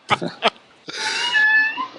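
A cat at home meows one long, drawn-out wail, close and fairly loud, just after a couple of brief voice sounds.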